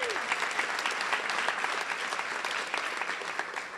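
Dense audience applause at a school rally, steady and full throughout, heard from within the crowd with no voices over it.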